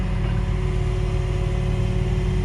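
A light-duty tow truck idles steadily with a low, constant engine drone and a faint mechanical whine as its bed is lowered at a hit-and-run impound scene, with no talk.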